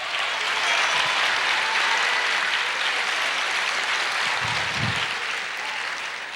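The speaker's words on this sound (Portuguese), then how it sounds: "Aplauda mais." A church congregation breaks into dense, sustained applause that fills the room steadily from start to finish, loud and unbroken, with no voices standing out.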